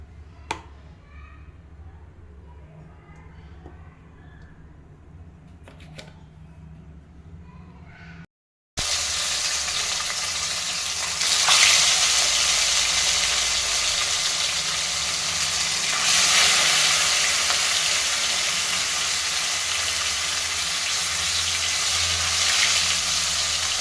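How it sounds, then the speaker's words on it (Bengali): Rohu fish frying in hot oil in a kadai, a steady loud broadband sizzle that starts suddenly after a quiet stretch of soft kitchen noises and then holds, swelling a little, with no talking. "এবার কড়াইটা বসিয়ে দিয়েছি মাছটা আমি ভেজে নেবো"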